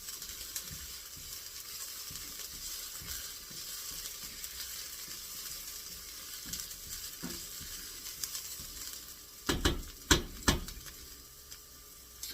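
Ground meat browning in a pan for a Bolognese sauce, a steady close sizzle with occasional stirring scrapes and a few sharp taps of a utensil against the pan near the end.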